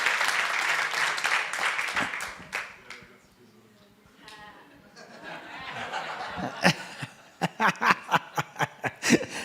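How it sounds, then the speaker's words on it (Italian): Audience at an evangelistic meeting claps for a brother who helps the group, a broad rush of applause and laughter that fades mid-clip, then returns as a sharp run of separate, fairly loud claps. "date un grande applauso a questo fratello perché ci aiuta tanto."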